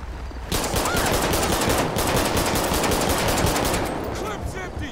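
Rapid automatic gunfire in GTA V's LSPDFR police patrol mod, a loud, dense burst of continuous shots that runs for several seconds before tapering slightly as the clip empties.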